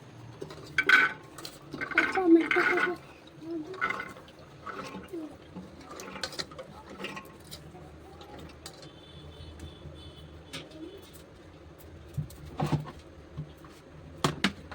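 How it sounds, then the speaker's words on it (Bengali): Soaked chickpeas are tipped into a pressure cooker with loud metallic clanks and scraping pot sounds at the start, then lighter clinks and splashy handling fading into quieter clatter. "চলো এটা কুকারের মধ্যে সেদ্ধ করতে দিয়ে দেবো"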